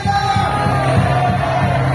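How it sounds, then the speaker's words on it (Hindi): A worship meeting crowd shouting "hallelujah" and cheering loudly together, a dense sustained roar of many voices with instruments droning underneath. "जोरदार ताली बजाएं, जोर से चिल्लाएं, हालेलुया!"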